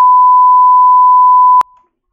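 A single steady electronic beep tone from a streaming software soundboard plays clean and loud for about a second and a half, then cuts off abruptly into silence.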